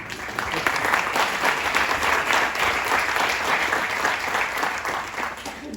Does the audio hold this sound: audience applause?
yes